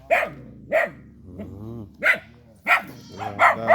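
A dog barks loudly and close up, about six sharp barks in an uneven rhythm with short pauses between them.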